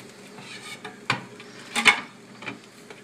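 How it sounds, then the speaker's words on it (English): Cooked crabs are lifted from a pot and dropped into a bowl, giving a few sharp clanks of shell and metal against the dish, scattered irregularly over quiet kitchen background. "I'm going to take every single crab out with this. I'll put it in a bowl."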